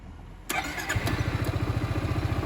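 A Yamaha XMAX scooter engine fires up after a 20,000 km service with a short burst of starter noise, then settles into a steady, close, rhythmic idle.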